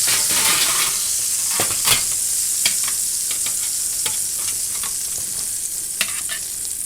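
A spatchcocked duck browns in a hot pan, giving a steady close sizzle and spatter with occasional clicks and scrapes of a utensil against the pan.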